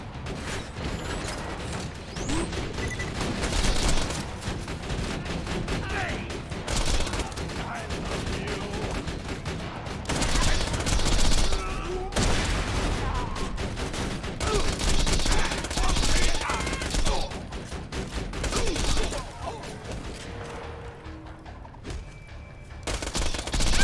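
Automatic gunfire from Axton's deployed autogun turret in Borderlands 2 rattles on continuously through a dense, loud battle mix of shots, mechanical clatter and explosions, with game voices and a player's speech in places.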